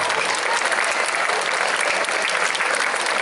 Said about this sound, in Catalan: Endavant, un aplaudiment